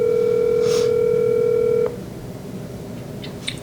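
A telephone tone sounds steadily for about two seconds while a call is placed to a mother late at night in a New York hotel room, then cuts off, leaving quiet room noise and a few faint clicks.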